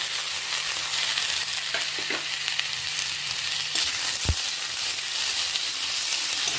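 Cumin, ginger paste and tomato fry in a pan after eggplant and potato for a gogoli jhol, making a steady, even hiss of sizzling oil with a few faint stirring scrapes and one dull knock, close and continuous, with no talking.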